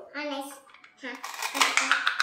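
A child's toy fruit knife set being used to cut a toy orange, with clattery plastic clicks and taps building in the second half, following and under talk from a woman and a child.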